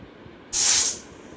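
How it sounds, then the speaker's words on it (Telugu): A kitchen pressure cooker with curry inside gives one sudden, loud hiss of steam lasting about half a second, then fades back to a low background hum. "ఒకసారి కుక్కర్ విజిల్ ఒక ఐదారు విజిల్స్ వచ్చే వరకు ఉంచుకోవాలండి"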